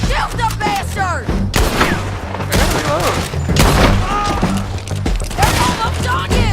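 Gunfire in Red Dead Redemption 2 during a chase: repeated sharp shots and booming blasts crack out in dense, irregular bursts, mixed with shouting voices and constant background action.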